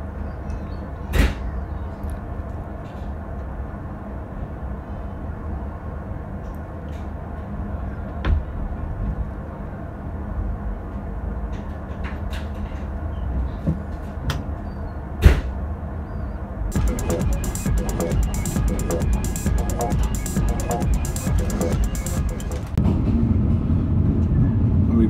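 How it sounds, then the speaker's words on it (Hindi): The 7 Up passenger train pulls out of Gujranwala railway station in Pakistan, a steady low rumble with a few sharp knocks, building into louder, denser rhythmic rail clatter toward the end. "2 मिनट के स्टॉप के बाद 7 अप जो है डिपार्ट कर रही है गुजरांवाला रेलवे स्टेशन से"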